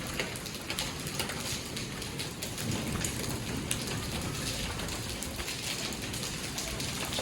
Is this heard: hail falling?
yes